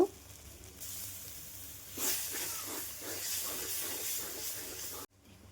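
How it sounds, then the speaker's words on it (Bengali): Spice masala frying with sour yogurt in a pan hisses and sizzles steadily, growing louder after a couple of seconds as stirring adds soft bubbling crackle, then cutting off abruptly near the end. "টক দই দিয়ে মশলাটাকে আমি আবার একটু ভালো মতো কষিয়ে নেব।"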